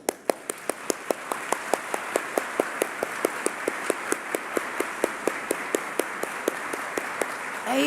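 A church congregation claps in praise of a song's composer, sharp evenly spaced beats marching in steady rhythm over a softer bed of scattered clapping throughout.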